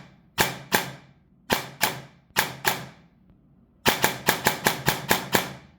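Electric airsoft gun with a basic MOSFET firing close and loud: a few short bursts of two or three shots each, then a rapid full-auto burst of about eight sharp cracks in quick succession.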